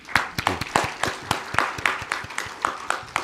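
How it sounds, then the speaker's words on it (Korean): Audience at a church seminar for newly appointed officers applauding, with distinct hand claps sounding in a steady, rhythmic pattern, fairly close and moderately loud, with no talking over them. "박수 한번 쳐주세요"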